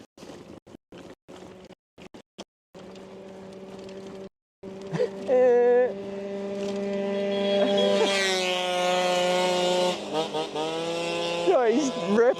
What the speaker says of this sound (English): That's definitely a little 2-stroke motor.